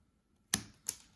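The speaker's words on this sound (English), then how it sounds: "And you can cut your threads." Two quick, crisp snips of scissors cutting sewing threads after stitching on a snap, close up and isolated in a quiet room.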